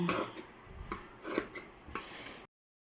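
Scissors snipping through silk skirt fabric for a pattu pavadai, a handful of close, crisp separate cuts spaced irregularly, then silence.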